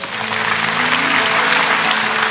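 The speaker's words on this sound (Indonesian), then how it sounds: "Kasih tepuk tangan untuk Tuhan Yesus." A church congregation claps together during a sermon, a full, even wash of applause across the whole moment with no talking over it.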